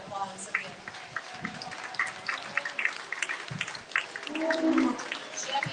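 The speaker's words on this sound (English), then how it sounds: "You're giving both a nice round of applause" Audience applause at a breeding beef cattle show, a moderate spread-out clapping from a crowd lasting several seconds, with faint voices mixed in.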